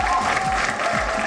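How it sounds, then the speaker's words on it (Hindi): Steady, dense applause from a crowd honoring India's Tokyo Olympic medalists at a felicitation event in the Ashoka Hotel, filling the short moment loudly and evenly. "मुझे लगता है इसके लिए सभी लिए ताली बनती है यार"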